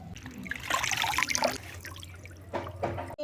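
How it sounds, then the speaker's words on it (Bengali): Fresh coriander leaves being rinsed in water, with close splashing and trickling that swells, pauses briefly and resumes, no voices. "ধনে পাতাগুলো এবারে ভালো করে ধুয়ে নেব।"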